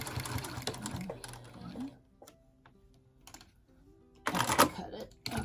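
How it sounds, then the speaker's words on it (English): A sewing machine back-stitches a baby quilt in a rapid whirring burst at the start, pauses through quiet handling, then runs another short burst near the end. Someone talks over parts of it. "so we're gonna back stitch"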